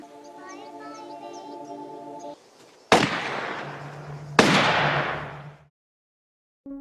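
Two sharp gunshots cracking out in a zombie film scene, each followed by a long decaying echo, after a stretch of quiet tonal background sound; loud and close.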